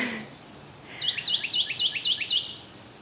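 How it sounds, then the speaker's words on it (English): A bird sings a quick run of about five bright, repeating chirps, moderately close, after a brief low noise at the start, with no one talking. "can that bird shut up?"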